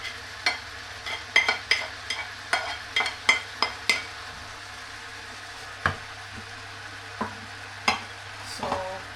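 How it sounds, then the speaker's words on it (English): Meat stir-frying with onion, garlic, carrots and bamboo shoots, a steady close sizzle broken by a dozen or so sharp spatula scrapes and taps against the pan, with no voice. "So we're gonna mix them together properly, mix well, like that."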